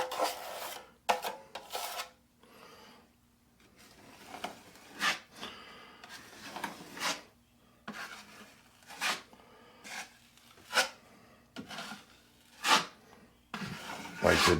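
A drywall knife spreads a coat of joint compound over taped drywall seams, making repeated rasping scrapes in uneven strokes with short pauses between passes, close and moderately loud, with no talking.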